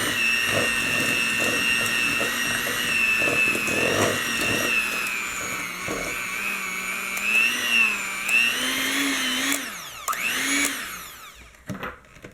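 An electric hand mixer whirs steadily through chocolate chip cookie dough, its motor pitch wavering as the beaters work the flour in, then slowing and cutting out near the end.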